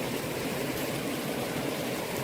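Water flowing in a river along the Appalachian Trail, a steady broadband rushing with no breaks and no voices.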